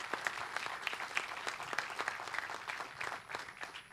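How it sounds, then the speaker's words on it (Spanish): Audience applause fills a naval industry conference hall, dense steady clapping from many hands held at an even level throughout with no voices. "También el aplauso para Óscar y bienvenido a la Argentina."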